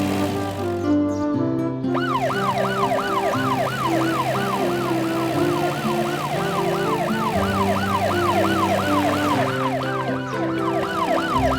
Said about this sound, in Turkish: Yardımcı arabaların garajından ambulans çıkıyor.